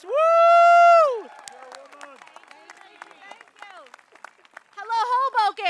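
A crowd at a political rally in Hoboken breaks into cheering and applause, a loud whoop at the start followed by scattered clapping and babble, with another voice rising over the noise near the end.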